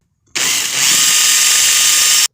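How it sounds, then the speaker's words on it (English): Power drill boring out the hole in a corroded positive battery terminal on a Ford Expedition, a steady loud high-pitched whine running about two seconds with no talk. "we're going to need to drill out this hole right here to fit on this stud"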